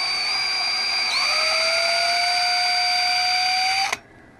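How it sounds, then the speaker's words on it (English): A twist drill bores through a new fuel pump piece during a repair, giving a loud, steady high whine for almost four seconds. Its pitch shifts slightly near the start, and then it cuts off abruptly. "So I'm just going to run a twist drill in through it real quick."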